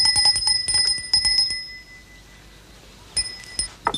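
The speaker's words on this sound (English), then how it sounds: "Harry, could you see why they aren't answering the bell" A small, bright servants' bell rings in quick repeated bursts, then pauses and gives a few more sharp rings, clear and close in a quiet period drawing room.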